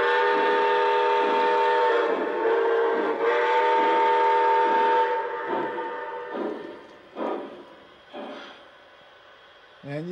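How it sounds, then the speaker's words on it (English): A steam locomotive's whistle blows loud and sustained for about five seconds, then gives several shorter blasts fading lower as the engine backs up, with faint talk in the background. "Love that whistle."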